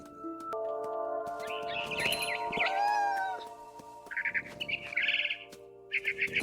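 Birds chirp and tweet in the video game What Remains of Edith Finch, with bright bursts of calls and a rising warble over a steady tonal ambient hum.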